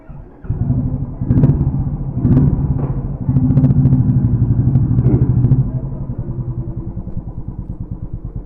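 Royal Enfield Super Meteor 650 motorcycle riding on city streets, a steady low engine rumble with throttle swells, continuous and close throughout.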